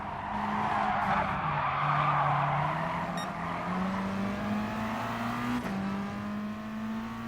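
Race car in Gran Turismo skidding with sustained tire squeal over a droning engine tone that dips and rises, ending in a brief sharp contact thump as it collides with another car.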